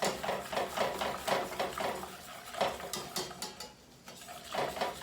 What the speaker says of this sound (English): You have to stir this recipe a lot.